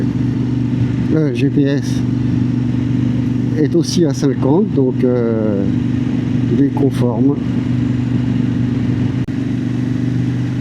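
A Kove 800X Pro motorcycle cruising steadily at about 50 km/h on cruise control, its engine a constant loud drone with wind noise throughout, as a rider speaks over it in short bursts.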